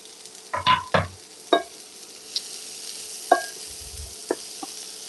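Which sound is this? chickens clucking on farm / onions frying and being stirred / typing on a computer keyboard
onions frying and being stirred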